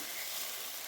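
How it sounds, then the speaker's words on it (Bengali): A spice paste with turmeric and water is sautéed in a pan, heard as a brief, faint, even hiss of sizzling with no talking. "হলুদ দিয়ে জল দিয়ে গুলিয়ে মশলাটা কষিয়ে নেব।"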